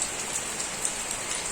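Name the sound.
rain falling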